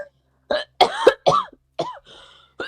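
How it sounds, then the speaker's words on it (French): A person coughs a few times in short, harsh, close bursts with throat-clearing sounds, separated by brief silences, and nobody speaks. "que tu tousses?"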